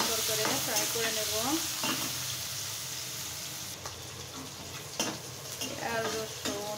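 Onion, green chilli, garlic and cumin frying in a pan, steady sizzling close by with repeated scraping and stirring clatter, some brief sharper knocks, no talking.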